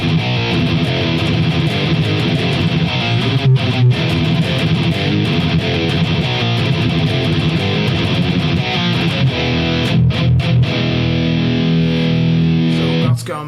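High-gain distorted electric guitar through a Fractal amp modeler, a dense, loud sustained riff with brief choppy breaks, close and continuous.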